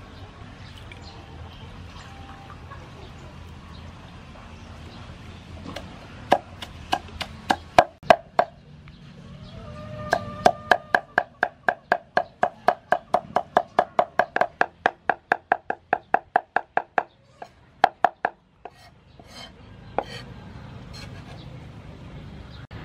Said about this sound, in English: now I move back to chop dry sweet pepper.